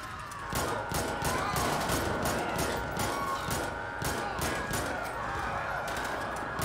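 Sustained automatic gunfire aimed at police officers in GTA V rattles on for the whole stretch as a dense, loud fusillade of rapid shots with faint voices underneath.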